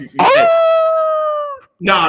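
A voice imitates a wolf howl, one long sustained rising-then-falling tone, loud and close, followed by a short burst of speech.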